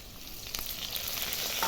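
Potatoes frying in hot oil with dried red chillies, bay leaf and cumin, giving a steady close sizzle and crackle that swells slightly toward the end.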